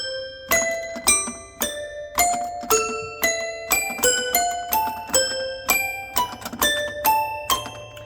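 A 1960s Schoenhut toy piano plays a run of bright, metallic chiming notes, struck one after another in a steady rhythm, each ringing briefly and decaying, close and fairly loud with no talking.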